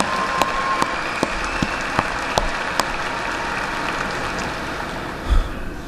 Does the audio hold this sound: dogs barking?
no